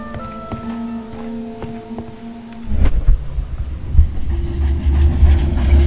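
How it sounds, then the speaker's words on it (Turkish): In the Sherlock Holmes Crimes & Punishments video game, a train approaches a station late at night: a soft tonal hum with faint clicks gives way to a louder, rumbling, rhythmic churn of the train drawing close. "Gece geç vakitte bir tren istasyonuna yaklaşan bir tren."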